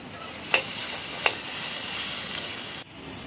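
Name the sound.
ginger garlic paste frying with spices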